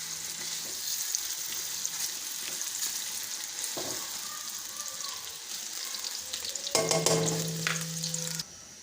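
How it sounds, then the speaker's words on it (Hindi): Sliced onions fry in hot oil with a steady, broad sizzle running throughout, a brief tap-like splash and a louder burst of crackle near the end before it settles again; no one speaks. "प्याज हमारा जो है वो फ्राई हो रहा है"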